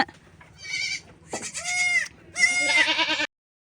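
Goats and young lambs bleat close by on a small farm during feeding time, three loud wavering calls following one another with short gaps between them.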